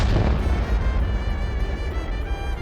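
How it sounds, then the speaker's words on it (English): Bombs dropped from planes explode over the Oka River in a dense, continuous roar of heavy rumbling blasts, loud and close throughout, with no voices. "Large explosions occurred."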